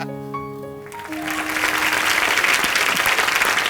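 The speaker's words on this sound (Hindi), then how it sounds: "एक बार रितेश और विवेक के लिए जोरदार तालियां।" Studio audience on The Kapil Sharma Show bursting into loud, sustained applause for Ritesh and Vivek, rising out of a fading musical chord and filling the room with dense clapping.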